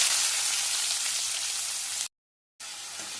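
Chopped onion with fenugreek seeds sizzles in hot oil, a close, steady hiss that cuts out briefly near the end, then resumes, with no talking.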